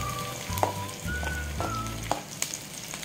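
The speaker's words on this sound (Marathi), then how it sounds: "भेंडी आपल्याला फास्ट गॅसवरच परतून घ्यायची आहे" Okra (bhindi) tossed into hot oil in a kadai on high flame, a loud close sizzle with crackling spatters and brief stirring scrapes.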